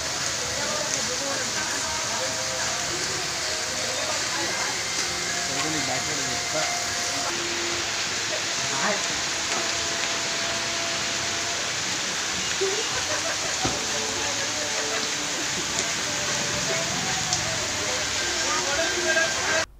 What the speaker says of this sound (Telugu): ఈ మండపంలోని వాటర్ ఫాల్లు చూపువారులను కనువిందు చేస్తుంది